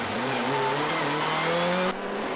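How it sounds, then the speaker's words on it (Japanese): Race cars battling in a 1999 All-Japan GT Championship round, including a Mitsubishi FTO, loud engines roaring and rising in pitch as they accelerate close past, with no talking. "坂岸からミドル選手に交代した86号外人ドライブの FTO とバトルが始まる"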